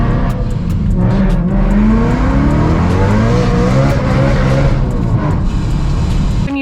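A Subaru WRX fitted with a new exhaust accelerates hard in second gear, the engine note climbing steadily in a loud, raspy roar that sounds close by, with no talking.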